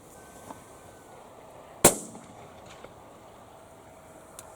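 A single loud shotgun blast while shooting pigeons outdoors, one sharp close crack with a short echoing tail, then faint background ambience and small distant knocks.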